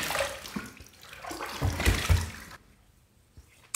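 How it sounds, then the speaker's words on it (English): A safety razor fitted with a Perma-Sharp blade is rinsed under running water after a shaving pass: a steady broadband splash and gush for about two and a half seconds, then it cuts off to near silence. "first pass done, let's rinse."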